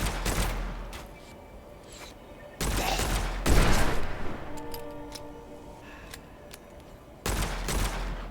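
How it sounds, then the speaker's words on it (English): Pistol gunfire in the video game Witchfire, several loud sharp bursts at intervals over a steady background, with no talking. "I gotta get point blank with my pistol real fast"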